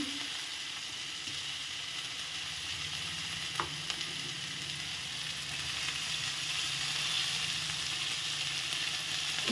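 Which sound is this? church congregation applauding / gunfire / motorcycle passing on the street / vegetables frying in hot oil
vegetables frying in hot oil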